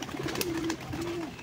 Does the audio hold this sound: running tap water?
no